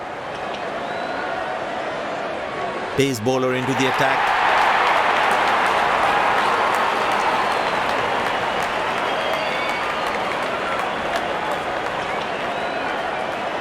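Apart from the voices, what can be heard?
crowd cheering and applauding at cricket match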